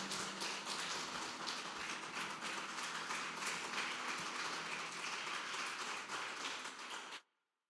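A church congregation claps loudly and steadily for Jesus during a worship service, a dense, sustained wash of many hands that continues without a break and then stops abruptly.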